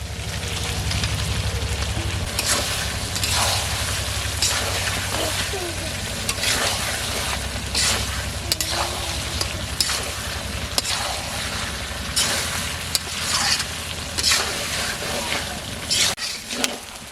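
Duck curry meat and fried potatoes sizzle and crackle steadily as they are sautéed in a pan with spiced paste, stirred with occasional scrapes and knocks, loud and close throughout.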